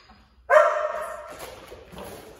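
A dog being trained with a toy lets out one sharp, loud bark up close that trails into a fading whine, with quiet room sound before and after.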